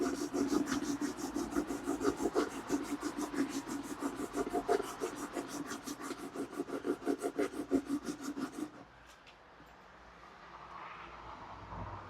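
A wood chisel is sharpened by hand to raise a burr, giving steady, rhythmic back-and-forth rasping strokes up close that stop abruptly near the end, leaving a quiet room.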